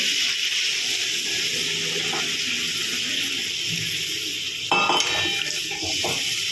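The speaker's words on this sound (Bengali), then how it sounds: "এখন দিয়ে দেবো গরম জল।" Hot water poured into a pan of sizzling spiced masala for a kathla fish and bori curry, a steady loud hiss and bubbling throughout with a brief clatter of utensils near the end.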